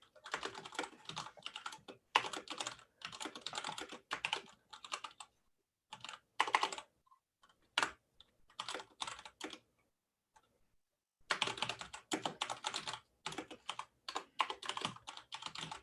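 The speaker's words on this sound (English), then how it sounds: "I can hear the mechanical keyboard you were talking about." Clacky, loud typing on a mechanical computer keyboard, in dense bursts of rapid keystrokes separated by short pauses and a few isolated clicks, close and alone with no talk.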